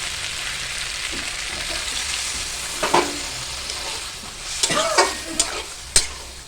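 Kohlrabi curry simmering and sizzling in a pan just as water is added, with soft stirring scrapes and a few sharper clinks and splashes toward the end, fairly quiet and close, with no talking.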